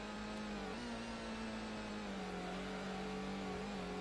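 Race car engine in the Gran Turismo video game, a steady droning hum with a shifting pitch as the car slides through a city course, continuous and fairly quiet with no talking.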